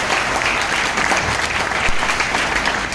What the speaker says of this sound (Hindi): मैं चाहूंगा कि जोरदार तालियां होनी चाहिए सर के लिए